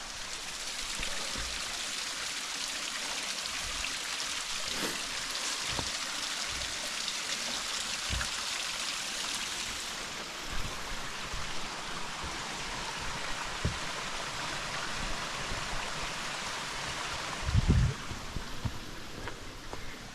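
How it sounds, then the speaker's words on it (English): A small creek flows along a forested fern trail, giving a steady soft rushing and trickling wash with a few faint footsteps and knocks nearby. "Right along this little stream."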